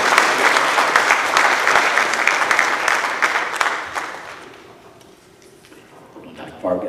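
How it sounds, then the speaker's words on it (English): A school board meeting audience gives a round of applause for students and their teacher, dense clapping filling the room for about four seconds before fading, with a voice starting to speak near the end. "we're going to give them a round of applause"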